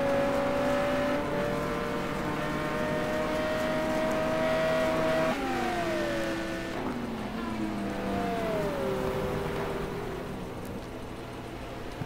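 A GT1 race car howls loudly down the straight at Suzuka, its engine note holding a high steady pitch, then dropping through upshifts before the sound fades.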